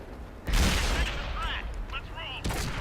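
An M46 Patton tank's cannon in a video game fires with a loud, close boom, followed by a ringing ricochet whine and a second heavy blast near the end, with game sounds in the background.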